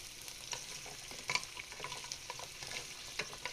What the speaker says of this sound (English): I'm just gonna mix it a little